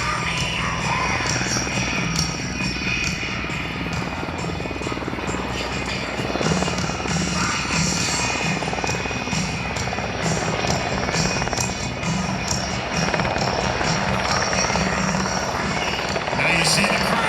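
A US Coast Guard rescue helicopter hovers over water during a rescue exercise, its rotor and turbine making a loud, steady, broadband roar that fills the whole stretch with a low thumping pulse underneath.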